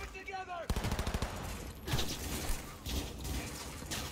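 Gunfire in the video game Cyberpunk 2077, rapid bursts of automatic shots crackling in quick succession at moderate volume, with a brief voice at the start.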